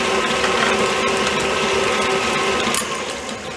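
A stand mixer beats teacake dough in a bowl, a loud continuous motor whir with a steady mechanical hum that drops off slightly near the end.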